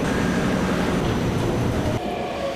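A metro train in Taiwan rumbles loudly and close with a steady roar and a faint tonal whine, then the noise drops abruptly near the end.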